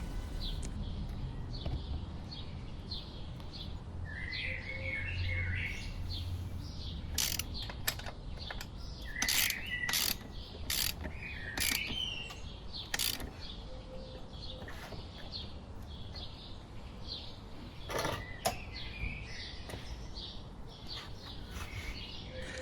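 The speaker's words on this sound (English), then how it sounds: "Tighten the actual bolt to 59 Nm." A wrench ratchets as the rear axle nut of a Honda Monkey 125 motorcycle is tightened, giving bursts of rapid clicking amid metallic handling noises, with faint birdsong chirping in the background.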